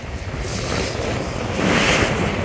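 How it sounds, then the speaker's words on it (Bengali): Strong wind and waves on the Meghna river heard from aboard the Surabhi 7 launch, a loud continuous roar of gusts buffeting the microphone over rushing water, swelling near the end. "বিশেষ করে ডান দিক থেকে ভীষণ বাতাস আসতেছে এবং ঢেউ আসতেছে"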